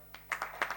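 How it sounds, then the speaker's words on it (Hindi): An audience claps at a Hindi poetry gathering (kavi sammelan) in Ghaziabad, with a few sharp, close claps starting up and building briefly with no speech over them. "एक बार ताली।"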